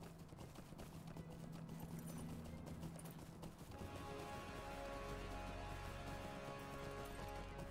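Horse hooves clip-clop at a steady riding pace in Lord of the Rings Online, a continuous rhythmic drumming of hoofbeats at moderate volume with no one talking.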